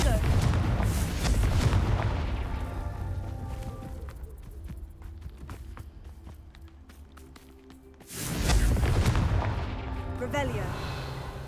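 Confringo blasting spell explosions in Hogwarts Legacy: loud booming blasts at the start and again near the end, with a rumbling, crackling tail between them and music underneath.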